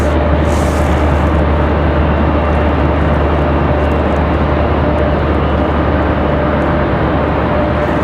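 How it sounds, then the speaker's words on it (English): A Breeze Airways Airbus A220 airliner at Raleigh-Durham airport, a loud, constant engine roar filling the whole span without any rise or fall, with no talking. "Guys are here in another A220 at Breeze Airways."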